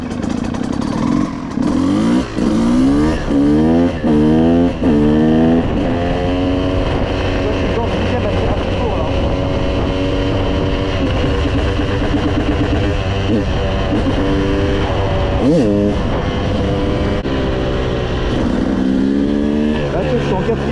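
A KTM motorcycle set up as a supermoto revs and runs while being ridden, its engine note rising and falling in repeated climbs through the gears, steady and close throughout, with someone talking over it.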